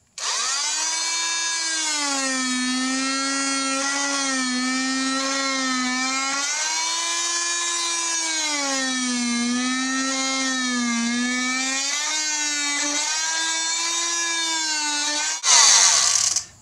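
A power tool blade cuts the knobs off a mower tire with the tire removed from the mower, giving a loud, steady, high-pitched whine that wavers slightly in pitch and runs alone until a brief clatter at the end.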